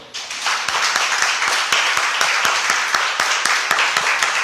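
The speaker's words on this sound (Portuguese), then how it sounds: "Vamos aplaudir o Senhor?" A church congregation claps together after a prayer, steady dense applause filling the room from start to finish with sharp individual claps standing out, fairly loud and close.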